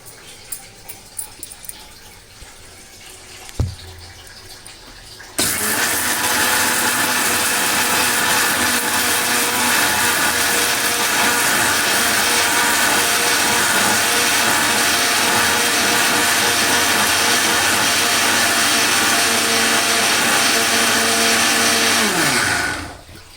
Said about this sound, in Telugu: మిక్సీ పట్టుకుంటామండి.